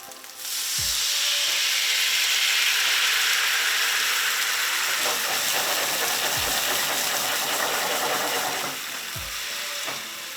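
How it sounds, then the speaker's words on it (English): Moscato sweet wine hits a hot pan of hogfish and cherry tomatoes, bursting into a loud, sustained hiss that gradually softens over several seconds, with a few dull knocks of the pan underneath. "It's a sweet wine, so we're gonna deglaze this."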